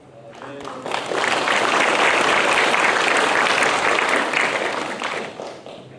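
An audience at the opening of the 2nd Chungcheong Confucianism International Forum bursts into loud, sustained applause for arriving guests, swelling quickly and holding steady before tapering off.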